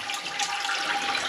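Water from a washing machine hose flushes through a radiator heating system, carrying out cleaner and dirt as a close, steady hissing rush.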